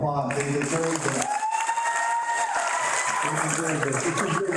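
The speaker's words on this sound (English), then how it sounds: "Let's give them another round of applause." Graduates at a 2023 commencement ceremony receive another round of crowd applause, a dense wash of clapping mixed with cheering voices, sustained tones and a rising whistle-like sound.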